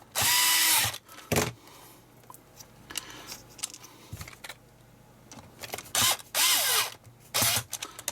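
Power screwdriver driving screws during a Sinclair ZX Spectrum 128k toast rack repair: short, loud whirring bursts separated by quiet pauses and faint clicks.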